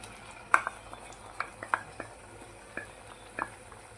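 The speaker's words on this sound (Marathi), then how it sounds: "ह्याच्यामध्ये मी आता टोमॅटोची प्युरी ॲड करते" Tomato puree going into hot oil in a kadhai for a yogurt chole curry: a faint sizzle beneath a string of sharp spoon-on-metal clinks and light scraping, spaced irregularly.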